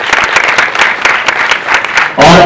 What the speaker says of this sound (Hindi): आपकी तालियों से